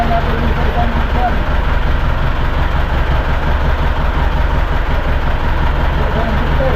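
The engine of a tuna fishing boat on the Pacific idles loudly and steadily in a low continuous drone, with people talking over it.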